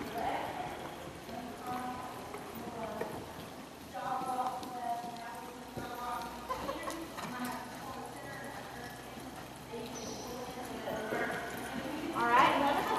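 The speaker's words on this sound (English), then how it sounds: "one of the things that you see on both these horses is what we call a good overstride" Tennessee Walking Horses move at a walk with a good overstride, their hooves clip-clopping in a steady cadence under ongoing talk, moderately faint.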